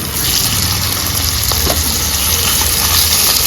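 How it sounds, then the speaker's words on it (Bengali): Shrimp frying in hot oil alongside lightly browned onions, giving a loud, steady, dense sizzle with faint stirring clicks throughout, no voices. "মাছগুলো এই তেলের মধ্যে আমি ভেজে নিচ্ছি।"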